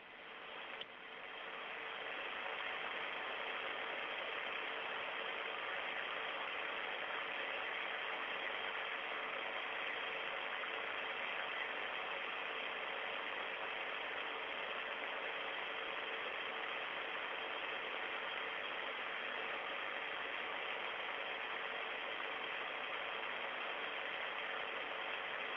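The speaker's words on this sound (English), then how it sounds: "Soyuz is now being propelled by the single engine of the Soyuz's third stage" Soyuz third-stage single rocket engine running during launch of Soyuz TMA-17, heard as a steady, dense broadband roar that holds unchanged at constant loudness for the whole stretch, with no voices.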